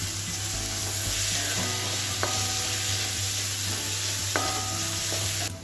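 Ginger sizzles steadily in a hot pan, a continuous close frying hiss with faint stirring clicks and no talking, cooked while making pepper chicken with tapioca.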